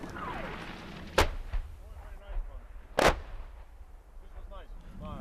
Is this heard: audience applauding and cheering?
no